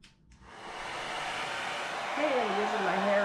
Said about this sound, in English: Okay, I'm using my hair dryer. Melts the glue.